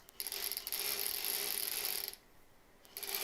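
A sewing machine's tension dial is turned during quilt sewing, giving a few seconds of close, dense ratcheting clicks that stop briefly near the end and then resume.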